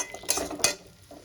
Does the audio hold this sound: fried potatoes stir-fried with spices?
yes